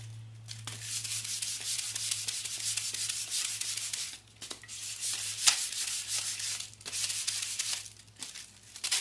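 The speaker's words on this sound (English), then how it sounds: "You're just doing a super quick sanding like this." Scuff sanding of lacquered wooden furniture before painting, a close, steady hiss of abrasive rubbing in long back-and-forth strokes with brief pauses, with no talking.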